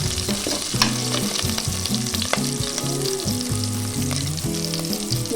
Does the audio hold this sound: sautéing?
yes